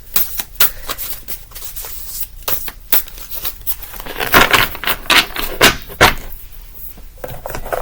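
A deck of cards being shuffled repeatedly up close, crisp riffling bursts and snaps in an uneven rhythm, with no voices.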